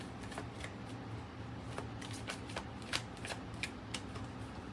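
Tarot cards shuffled and drawn during a reading, a steady papery riffle with sharp slapping flicks of cards landing at irregular intervals, close and moderately loud.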